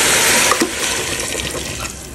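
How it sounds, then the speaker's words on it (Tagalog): Water pours into a cooking pot of beef, garlic and onion in a brief, loud, splashing rush that thins out toward the end. "Lagyan natin ng tubig."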